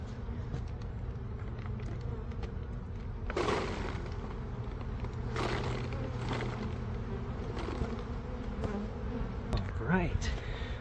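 Bees drone steadily and close during a suitless bee rescue as the colony is moved into a box, a dense continuous buzz with occasional louder passes near the microphone.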